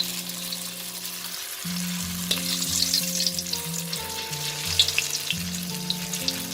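Steady frying sizzles as fish skin fries in hot oil, crackling and spitting continuously up close, with a low hum underneath and no voices.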